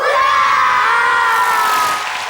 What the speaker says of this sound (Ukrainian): хай зал вам знову кричить Браво!